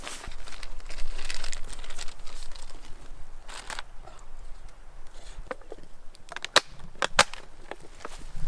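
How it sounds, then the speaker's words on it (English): Stickers being peeled and pressed onto a geocache container out in woodland, heard as soft crinkling and rustling with a few sharp close clicks and snaps toward the end, no voices. "Put the stickers on."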